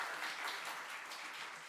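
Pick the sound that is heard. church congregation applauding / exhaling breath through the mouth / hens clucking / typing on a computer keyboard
church congregation applauding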